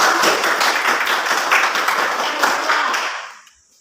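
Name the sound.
children clapping hands in applause for group 2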